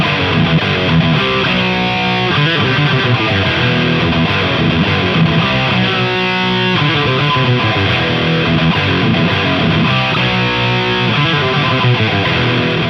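Heavily distorted electric guitar chugs through a metal riff, loud and continuous across the whole stretch with rhythmic palm-muted bursts and no talking.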